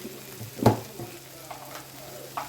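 Noodles stir-fry in a hot pan with steady sizzling and a sharp scrape of the spatula partway through, followed by a few lighter stirring knocks, close and alone without speech.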